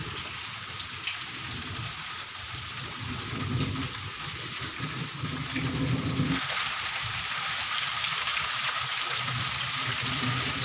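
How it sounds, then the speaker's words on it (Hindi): Steady rain falls outdoors in a continuous hiss of drops, fairly faint and even, growing slightly denser partway through, with no talking. "मौसम अभी भी बारिश का ही है"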